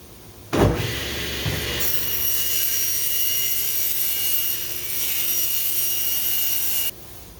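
Trimming the rear edge of a sheeted RC plane wing core: a bump, then a steady, loud rushing cut that holds for about six seconds before stopping abruptly.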